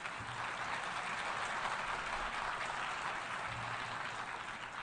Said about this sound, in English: Well, you applaud now